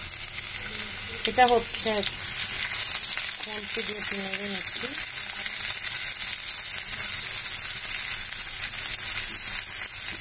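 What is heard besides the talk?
onions frying in oil in a pan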